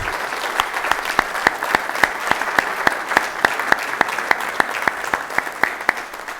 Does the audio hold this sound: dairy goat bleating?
no